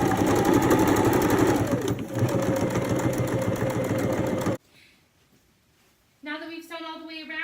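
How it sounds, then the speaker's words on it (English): A sewing machine stitches a fitted crib sheet, closing the small gap left open in the seam, with a steady, loud, continuous whirring run that cuts off abruptly. Near-silence follows, then a voice speaks. "I'm going to now just sew over that little piece that we had left open"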